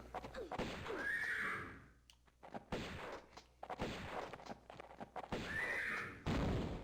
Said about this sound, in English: The hell was that? Infernal Demon Horse?